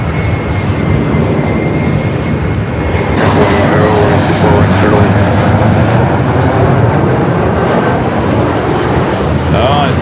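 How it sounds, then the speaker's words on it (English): A Boeing 767-300ER jet departing LAX for Atlanta gives a loud, close engine roar that surges abruptly partway through, with a sustained high whine riding over the rumble. "that flight heading to Atlanta, Georgia, the 767 at 300ER."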